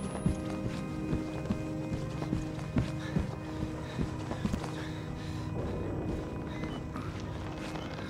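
Horses' hooves clip-clop irregularly in the video game Outlast, moderately close, over a low ambient hum with occasional faint thuds.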